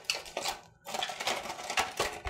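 A foil-lined tray of cooled homemade fudge flipped over onto a cutting board: a few sharp clattering knocks and scrapes of metal against the board, close and fairly loud, with a brief silent pause partway through.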